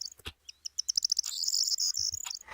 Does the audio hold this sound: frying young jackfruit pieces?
no